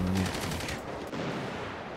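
Gunfire in the video game FiveM (GTA V), a quick burst of rapid automatic shots in the first moments, then fading into a faint background.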